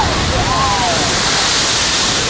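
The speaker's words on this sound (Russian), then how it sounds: "Вся волна сюда заливает. В ноги." Water rushes and splashes over riders on an amusement park water ride, a loud continuous wash of spray with a voice briefly heard over it.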